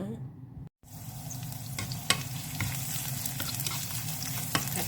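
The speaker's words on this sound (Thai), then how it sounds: "ตั้งกระทะแล้วจ้า กำลังเดือด กำลังสีร้อน ดอกกระทะร้อนเราค่อยใส่ พริกนะคะ" Steady crackling sizzle of chilies frying in a hot wok, with occasional sharp pops and scraping stir sounds, no voices.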